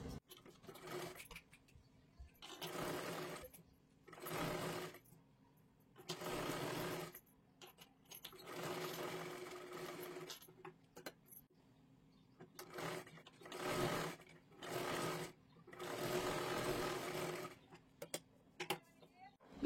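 A sewing machine stitches along the edge of a two-inch blouse sleeve strip in repeated short bursts of whirring, each lasting a second or two with pauses between, close and fairly quiet.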